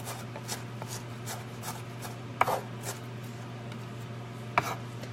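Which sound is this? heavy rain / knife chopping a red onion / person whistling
knife chopping a red onion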